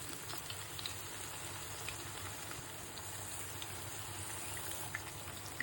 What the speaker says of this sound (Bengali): তেলটা গরম হয়ে গেছে, চাপের মাংসটা দিয়ে দিলাম